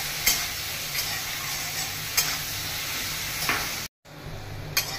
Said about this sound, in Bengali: এবার এটা একটু নাড়াচাড়া করতে হবে